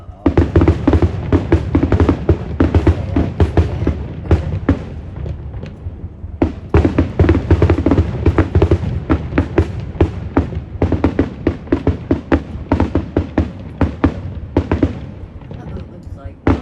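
Fireworks burst over the Lewis County Fair in a rapid, continuous barrage of loud booms and crackles, with people talking and reacting in between the blasts.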